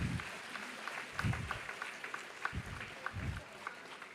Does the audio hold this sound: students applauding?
yes